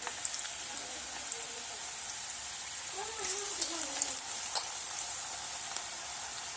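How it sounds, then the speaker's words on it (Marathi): Onion bhaji (kanda bhaji) frying in hot oil, a faint steady hiss and crackle of bubbling oil under a soft voice in the background, with a few brief sharper pops. "तेल गरम चांगलं झाल्यावर तसं भजी चांगल्या प्रकारे भाजतात"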